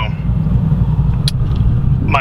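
A Ford Mustang S550 with a ghost cam tune idles with a loud, steady rumble and a faint lope, heard up close while a person talks over it.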